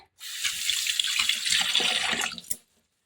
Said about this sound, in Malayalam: ഈ വെള്ളം കൂടെ കളഞ്ഞ് ഞാൻ ഒന്നുകൂടെ കഴുകിയെടുക്കട്ടെ